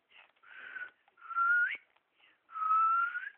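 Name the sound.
person whistling to call a dog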